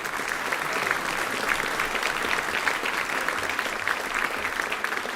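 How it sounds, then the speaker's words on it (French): An audience at a 2009 harmony band concert applauds steadily throughout, a dense sustained clapping from a sizeable crowd in a hall with no pauses or talk. "Allez, on l'applaudit,"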